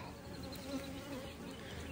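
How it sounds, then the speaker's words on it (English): A honey bee buzzes close by during a beekeeper's hive inspection, a soft, steady drone that stays quiet and continuous for two seconds with no talking. "It's a bee right by my face"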